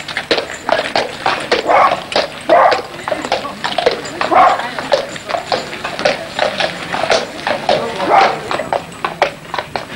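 Rhythmic clip-clop of horse hooves on a hard surface, steady repeating beats at a walking pace, fairly close.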